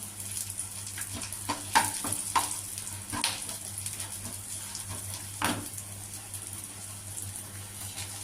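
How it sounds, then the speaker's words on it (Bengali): Dry red chilies, bay leaves and whole garam masala sizzle in hot oil, giving a soft continuous crackle with a few sharper pops and clinks of spices hitting the pan over a low steady hum. "এর মধ্যে ফোড়ন দিয়ে দেবো শুকনো লঙ্কা দিয়ে দিলাম দুটো তেজপাতা দিয়ে দিলাম গোটা গরম মশলা দিয়ে দিলাম"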